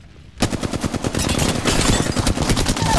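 Rapid automatic gunfire from the video game Apex Legends on the Kings Canyon map, starting abruptly after near silence and continuing as dense, loud bursts of shots throughout.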